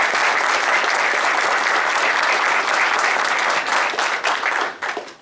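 Audience applause at a university and cultural institute agreement signing ceremony, a full, sustained round of clapping from a room of people that thins and fades out toward the end.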